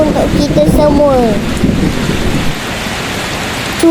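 Rain falls hard during a thunderstorm, with deep thunder rumbling loud and close over the steady patter of drops before it eases into a quieter, continuous downpour.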